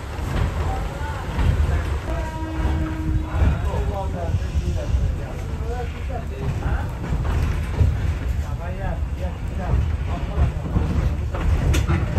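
A steady low rumble and clatter of a moving passenger train between Santahar and Bonarpara, Bangladesh, continues throughout, with a voice talking over it.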